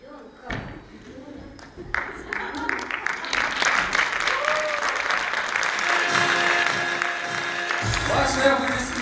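Audience applause at a youth theatre award ceremony, steady dense clapping from a large crowd that swells and holds for several seconds, with music and a voice faintly beneath.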